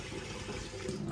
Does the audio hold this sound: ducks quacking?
no